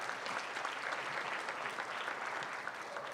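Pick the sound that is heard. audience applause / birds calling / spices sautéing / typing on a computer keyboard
audience applause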